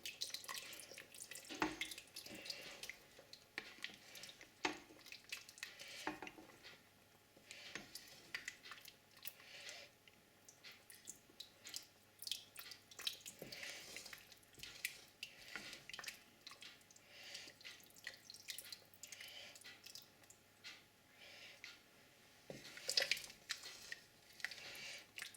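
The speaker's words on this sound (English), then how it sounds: "just dribble it in. Stirring as we go." Liquid dribbled slowly into a pot of beef stew while it is stirred, giving soft wet trickling and small spoon clinks and squishes, quiet and close, with no talking.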